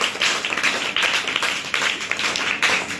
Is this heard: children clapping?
yes